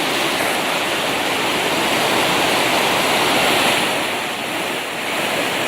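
The strong, swollen current of the Chalakudy river at Athirappilly in the rainy season rushes past as a loud, continuous roar of churning water, steady throughout with a slight dip near the end, and no voices.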